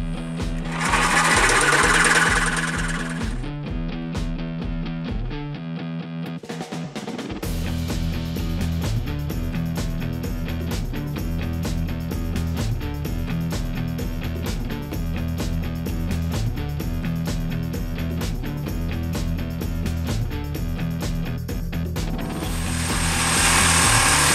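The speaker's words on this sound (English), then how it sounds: "So let's get this muffler cut off." A saw cuts through the muffler of a BMW 128i exhaust with a loud, rapid mechanical buzz that holds steady for about twenty seconds, with a brief pause near the start.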